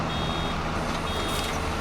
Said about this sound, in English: It's already beeping at us to warn us.